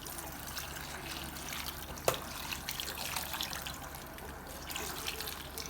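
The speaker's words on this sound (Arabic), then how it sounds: "بعد كده بنزل بقى بالشوربه بتاعتنا القمر" Soup is poured over a dish of zucchini, peppers and cabbage topped with ghee, making a faint, steady trickle of liquid with a single sharp clink partway through.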